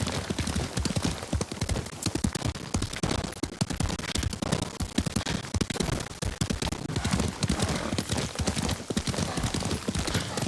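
Galloping horse hooves from the samurai video game Ghost of Tsushima, rapid, steady, loud clip-clop rhythm continuing throughout with no pauses.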